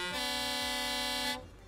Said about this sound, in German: wir hupen mal eine Runde.